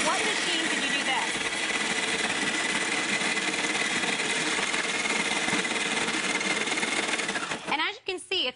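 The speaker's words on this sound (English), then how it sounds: "I want to really point out this shaver, and that's what we were just talking about." An electric ice shaver grinds and whirs continuously, loud and buzzing as it shaves ice into a snowy consistency, then sputters and stops near the end.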